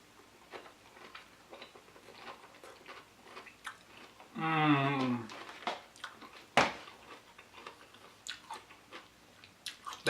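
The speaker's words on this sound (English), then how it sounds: "Got a couple bites made up here with some of the salsa and the avocado. Let's give it a taste." Close-up chewing of a keto bite topped with salsa, avocado and slightly crunchy pepper: moist, crunchy bites repeating, with a brief voiced hum in the middle.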